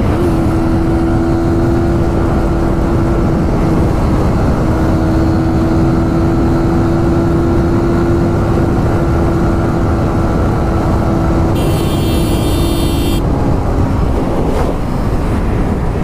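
A Suzuki GSX-R motorcycle engine drones steadily while riding at speed, a continuous mid-loud hum with wind rush that holds nearly unchanged throughout, no voices heard.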